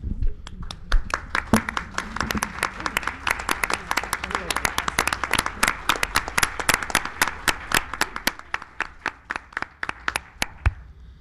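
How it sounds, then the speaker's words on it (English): Teachers and staff from Ferry Farm and other schools are applauded at a school board listening session, with scattered, distinct hand claps from a smallish crowd continuing for around eleven seconds before thinning out at the end. "I'd like to take a moment to recognize and applaud all teachers and staff from Ferry Farm and other schools at this time."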